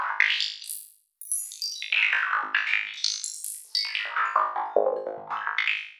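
Karplus-Strong synthesized percussion for psytrance, a rapid sequence of plucked, metallic hits whose pitch is swept up and down by a 16th-note modulator, producing a bubbling, zigzagging pattern with a brief gap near the start.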